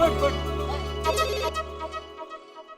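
A telephone rings as an outgoing call is placed, giving a repeating electronic ringtone that is fairly quiet and steady, with a low hum under it that cuts out just after two seconds.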